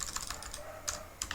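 Typing on a computer keyboard: a quick, close run of light key clicks, then a short pause and a few separate taps, with no talking.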